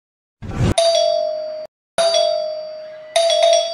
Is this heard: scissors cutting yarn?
no